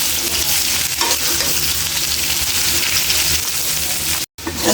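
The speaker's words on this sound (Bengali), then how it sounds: "মধ্যে পেঁয়াজ কুচি দিয়ে ভালো করে ভেজে নেব।" Taro corms (kochur mukhi) frying in a pan with turmeric and chopped onion give a steady, close sizzle with stirring scrapes throughout, broken by a brief silent gap near the end.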